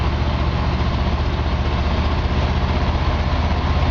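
A Chevy 350 engine in a 1955 Chevy 3100 truck runs at a steady idle, with a dense low rumble and an even, continuous drone close by, and no voices present.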